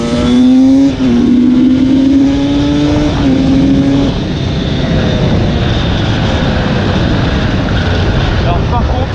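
Husqvarna 300 TE two-stroke dirt bike accelerating, loud rising engine pitch close by that drops back after a gear change then climbs again before trailing into a rough, noisy roar; a voice is partly heard underneath.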